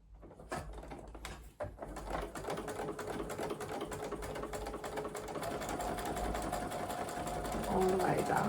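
A sewing machine stitches a fabric seam with a steady, rapid mechanical patter that runs nearly the whole time after a few starting clicks, close and prominent, while someone talks over it.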